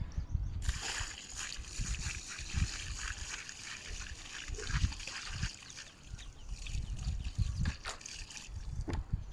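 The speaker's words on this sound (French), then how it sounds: "Si vous versez déjà un seau d'eau" A bucket of water poured into a roof gutter, sloshing and splashing close by as it drains, with an irregular gurgling trickle throughout.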